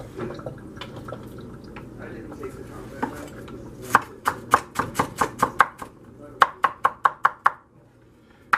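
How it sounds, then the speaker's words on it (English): A knife slices onions on a board, first with soft scattered taps, then a fast run of sharp, even chops in two bursts, close and fairly loud over a faint background hum. "So take your onions, do the same thing, slice it up however thick you want"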